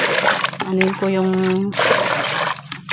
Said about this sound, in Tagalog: Lagyan natin ng tubig dito